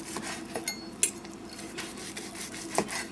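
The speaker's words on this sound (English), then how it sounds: "and now we're carving it up" A knife scrapes and taps against a plate while carving cooked chicken for fajitas, giving a few soft metallic clinks and rubbing strokes that stay close and fairly quiet.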